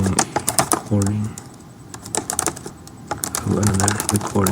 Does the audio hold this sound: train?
no